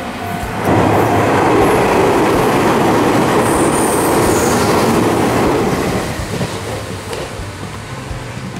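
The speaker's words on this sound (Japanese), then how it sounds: "あ、電車来た。" A Meitetsu train in Japan rumbles past close by, a loud steady roar of wheels on track that slowly fades as it moves away.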